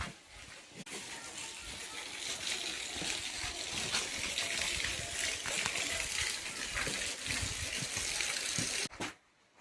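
Water gushes steadily from a pipe at a small mountain water crossing. The broadband rush is close and continuous, then cuts off sharply near the end.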